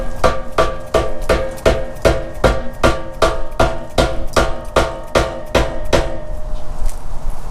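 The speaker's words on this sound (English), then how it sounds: "I'm using my dead blow hammer to tap it down" Dead blow hammer tapping a bearing race down into a dual swing arm rear bumper, about a dozen sharp, evenly spaced knocks at a steady rhythm, close and loud, then a short ringing pause at the end.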